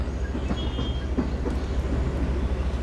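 A train rolling along in the video game Zompiercer, a steady low rumble with faint rhythmic clacks and a brief higher whine, moderately quiet and continuous.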